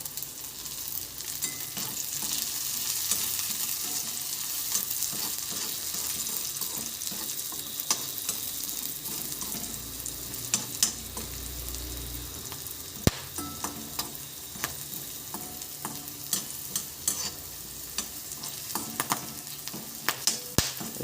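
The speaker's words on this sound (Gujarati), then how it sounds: "આપણે જે લીલા વટાણા છે એને નાખી દઈએ એટલે એ પણ થોડા આ તેલમાં ફ્રાય થઈ જાય" Onions and green peas frying in oil, a constant hissing sizzle with frequent sharp crackles and occasional stirring scrapes, close and steady throughout.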